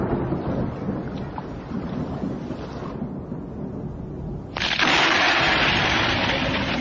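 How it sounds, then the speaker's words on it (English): A thunderstorm over the high Ethiopian plateau brings heavy rain hissing down with deep rolling thunder, and the downpour surges louder partway through. "Between June and September, storms rage over the high Ethiopian plateau."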